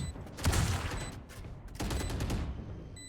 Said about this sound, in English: Ed shooting his teammate in the head